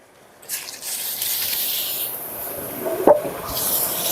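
Garlic paste sizzles in hot mustard oil in a wok for a village mutton curry: a bright, continuous frying hiss with a brief scrape or clatter partway through, close and unaccompanied by speech.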